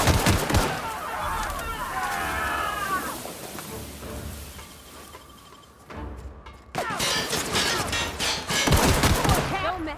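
Video game gunfire in The Outer Worlds, sharp bursts of shots at the start and again in the final seconds, loud and close, mixed with other game sounds and a voice.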